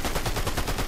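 Rapid automatic gunfire from a multiplayer shooter video game, a loud continuous burst of closely spaced shots filling the whole moment with no talk.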